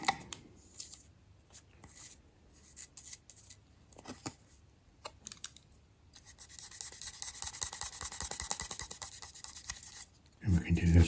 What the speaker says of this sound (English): we can just come in with the fiberglass pen again, just to give it a bit of a clean up